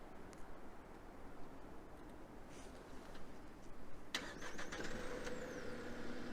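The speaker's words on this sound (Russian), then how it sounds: "Автомобиль запустился." A Geely Coolray engine starts by remote start. Its low idle rumble is steady and fairly faint, with a sharper click partway through, and no talk is heard.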